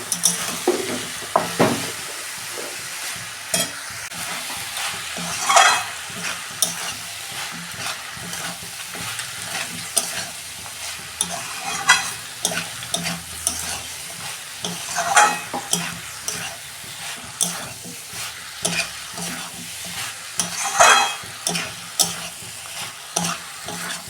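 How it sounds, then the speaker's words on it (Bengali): Cabbage stir-fried in a pan with a little sugar: a continuous soft sizzle under frequent stirring scrapes and light utensil knocks against the pan, steady and close throughout with no talking. "এই যে বাঁধাকপি আমি কষে নিয়েছি"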